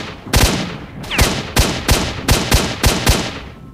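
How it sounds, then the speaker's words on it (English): Gunshots in the video game STALKER: Shadow of Chernobyl, a string of about eight sharp, loud shots at a fairly steady pace, clear and with no talk over them. "Who's taking shots?"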